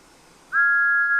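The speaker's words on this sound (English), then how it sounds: "Thomas gave one sad toot of his whistle and slowly pulled away." A single steady steam whistle toot from Thomas the Tank Engine, a clear, loud sustained tone that begins abruptly and holds to the end.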